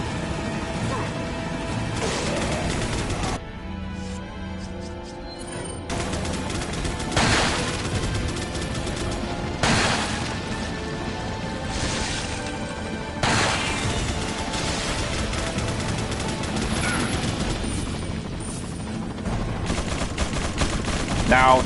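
Repeated gunfire in the 2005 Resident Evil 4 game: sharp, loud shots and bursts land at intervals over a steady game background, with crashing impacts mixed in.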